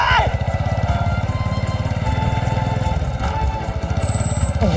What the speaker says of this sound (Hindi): अरे समीर संभाल के, बाइक की ब्रेक खराब है, संभाल के।